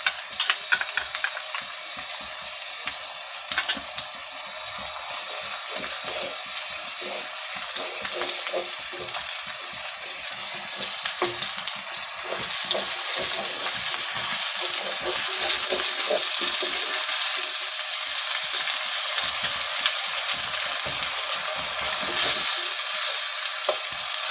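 Garlic and ginger fry in hot oil in a karahi, a steady sizzle that swells louder and brighter partway through, with occasional stirring clinks.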